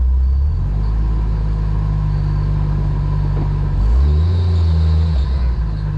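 A Jeep Wrangler engine idles right after starting, a loud steady low rumble close by with a brief dip and shift in pitch partway through, no talking.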